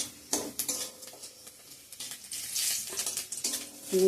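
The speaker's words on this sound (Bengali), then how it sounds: "পেঁয়াজ, তেজপাতা, পাঁচফোড়ন সংবাদ দিয়ে দিয়েছি, ফোড়ন দিয়ে দিব ডালটা।" Masoor dal tempered with onion, bay leaf and panch phoron, with a sharp hiss and sizzle as the tempering hits the pan, plus clanking of a metal spoon and pot, close by.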